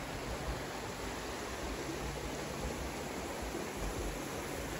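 Creek water flows steadily beneath a bridge along a walking trail, a continuous broadband rush with no pauses, fairly close and alone without any voices over it.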